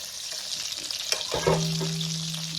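Meatballs for a tomato-sauce dish sauté in a pan with a steady soft sizzle, joined midway by a brief scrape of a spoon turning them and a low steady hum.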